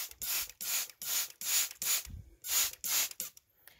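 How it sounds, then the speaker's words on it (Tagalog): A hand spray bottle mists vegetable seedlings in short hissing bursts, about eight sprays in a quick uneven rhythm, close and clear with no speech. "Spray na lang po natin guys."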